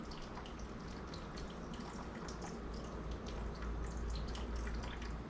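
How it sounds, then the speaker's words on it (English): Beef broth poured into a pan over a venison roast, making a continuous close splashing, trickling stream with fine droplet spatter throughout and no voices. "we're literally just gonna use beef broth to top this off"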